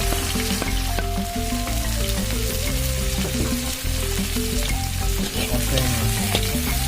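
Shallots, garlic, spring onion and chili frying in hot oil in a pan, a loud, continuous dense sizzle with crackling spatter, nearby and steady, heard alone without talk.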